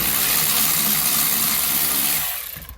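A bolt is worked loose at the bottom of a seat belt retractor in a Honda Civic, giving a steady, loud broadband grinding and ratcheting noise up close that continues without a pause and then trails off at the end.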